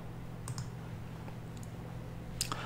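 A few scattered clicks of typing on a computer keyboard, brief and faint, with sparse keystrokes against a low steady hum.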